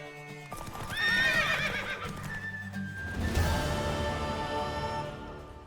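A horse in The Witcher 3 whinnies loudly over the steady clip-clop of hooves, then neighs again as the galloping continues close by.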